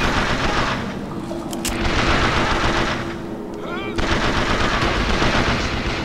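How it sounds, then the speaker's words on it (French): Rapid bursts of gunfire in the video game BioShock Infinite: Burial at Sea, dense and continuous with brief lulls, loud throughout, with some speech-like sound mixed in. "Je crois que j'attends la fin des coups de feu."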